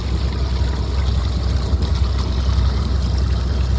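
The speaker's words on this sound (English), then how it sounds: "just showing you cold engine starts on this 2002 Lochin 40" A 2002 Lochin 40 sports cruiser's port engine idling after a cold start, a loud steady low rumble with splashing water from the exhaust at the transom, constant and unbroken.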